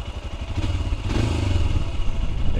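A Royal Enfield Scram 411 motorcycle engine turns over and settles into a steady, close, loud idle, with a low mechanical thumping rumble and some clatter running throughout.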